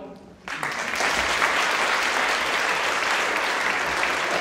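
Applause from an audience honoring a speaker at a congratulatory gathering, breaking out suddenly after a brief quiet moment and continuing as steady, dense clapping at close range throughout.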